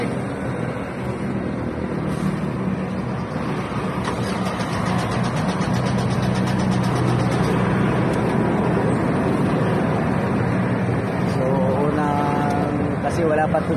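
A 2010 Mitsubishi Montero Sport engine cranks and catches, then settles into a steady running rumble after valve cover gasket and EGR work, with people talking over it throughout.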